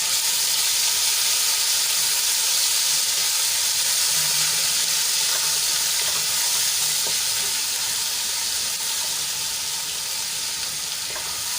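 Ginger, garlic and chili paste sizzles and fries in hot oil with a constant loud hiss, broken now and then by faint crackles.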